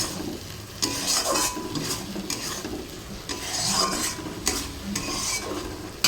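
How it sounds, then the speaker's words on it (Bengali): Meat browning with spice paste in a hot pan sizzles steadily while a spoon stirs and scrapes in repeated strokes, close and fairly loud with no voices. "মাংসটা দিয়ে দিয়েছি একসাথে ভালো করে কষিয়ে নিই"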